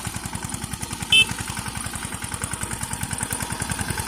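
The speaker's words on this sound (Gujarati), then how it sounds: "જો ટ્રેક્ટર હાલે છે" A tractor engine idles close by in a village, its low, even chugging pulse continuing throughout with a brief high chirp partway through.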